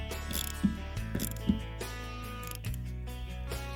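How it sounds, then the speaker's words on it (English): 13mm socket ratchet working a bolt loose on a 1996 Chevy Lumina, quiet close clicking pawl strokes in a few short bursts with pauses between them. "So I have my 13mm socket, and gonna remove this bolt here."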